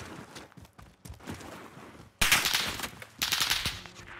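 Gunfire in Call of Duty Warzone on the Caldera map, quiet scattered shots at first, then two sudden loud bursts of close automatic fire, with no voices.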